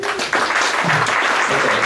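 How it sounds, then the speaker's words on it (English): A short burst of clapping from a small group, steady and moderately loud for a couple of seconds. "Big round of applause for the video"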